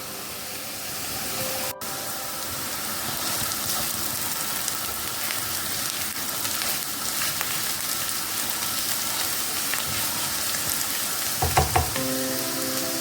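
Grated carrots frying with onion in oil in a pan for cabbage soup, a steady close sizzle with faint crackles and a few stirring scrapes near the end.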